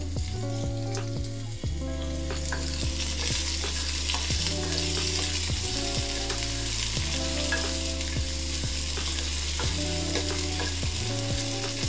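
Onions and dried round chillies frying in hot oil after mustard seeds have popped, a loud continuous sizzle with scraping stirs and a rhythmic mechanical clatter running alongside, no voices.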